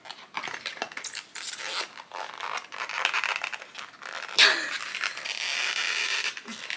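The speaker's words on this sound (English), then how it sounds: "I am ripping the box" Cardboard cosmetics product box from a Sephora haul being ripped open by hand: a steady run of dry scraping and tearing, with a sharper rip partway through, close up and with no talking.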